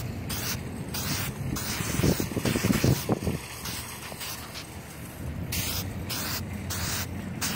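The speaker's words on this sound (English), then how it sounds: "Now I'm gonna lift up the hood and spray up underneath as well." Spray paint hissing from an aerosol can onto a car, in repeated bursts of varying length separated by short pauses, close and fairly loud with some handling noise.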